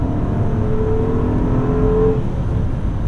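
A 2022 Maserati Ghibli Trofeo's steady, loud engine drone with a rising whine as it accelerates under power through fast shifts, then the pitch drops back as it settles.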